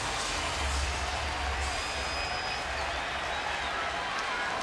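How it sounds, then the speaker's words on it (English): Stadium crowd at a baseball game on its feet cheering for pitcher Andy Pettitte, a broad steady roar of cheers and applause, loud and sustained without a break. "Just about everybody on their feet and cheering for Andy Pettitte."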